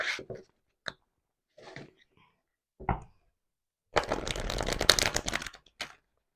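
A Neoteric Feminine tarot deck by Wyspell, printed on thin cardstock, is shuffled with reversals. A few soft, scattered handling clicks come first, then a dense, close riffling burst of card shuffling lasts about two seconds.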